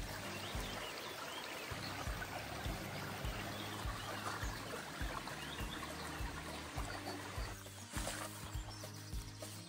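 A mountain stream trickles and burbles steadily, with a low rumbling undertone; faint and continuous with no voices.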